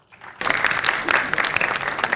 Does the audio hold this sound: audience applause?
yes